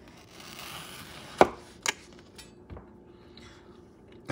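A knife cuts through a mango, likely on a cutting board, for homemade mango salsa, giving two sharp close knocks and a softer third against a low, quiet background hiss.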